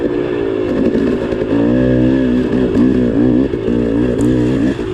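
Dirt bike ridden on a forest trail at Hamilton Buttes in Gifford Pinchot Forest: a loud, close engine drones steadily and revs up and down throughout with no pause.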